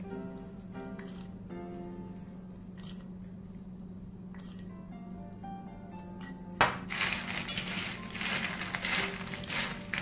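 Crispy homemade tomato chips are tossed and mixed, starting with light scattered clinks and small taps, then breaking into a loud, dense, continuous crunching and rustling that fills the remaining few seconds.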